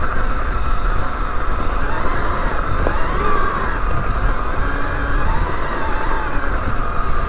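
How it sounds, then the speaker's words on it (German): A KTM E-XC Freeride electric motorcycle spins its rear wheel on slippery ground, a loud steady motor whine and rushing tyre noise held continuously at close range without speech. "hier ist es so rutschig. Boah, hier spult das Rad nur noch."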